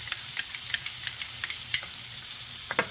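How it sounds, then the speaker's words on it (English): Minced garlic and freshly ground ginger sizzle steadily in sesame oil while a spoon scrapes and stirs with repeated light clicks, close and continuous, no talk. "we're just going to stir that up until that ginger starts to dissolve"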